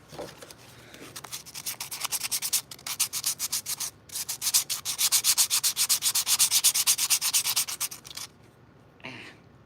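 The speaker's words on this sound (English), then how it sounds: "right now we're just sanding down this stuff" Sandpaper rubs rhythmically over a custom game controller shell, a close, quiet scratchy hiss in fast repeated strokes with a couple of brief pauses, trailing off near the end.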